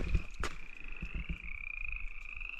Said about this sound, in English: I hear a bunch of, I think they're frogs, and I see a pond